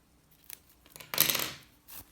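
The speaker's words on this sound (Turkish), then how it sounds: "İpi kesiyorum." Scissors cut raffia yarn during handmade raffia bag crochet work: a couple of small clicks, then one louder close snip with a rasping slide through the strands, then a brief trailing click.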